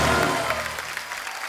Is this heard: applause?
yes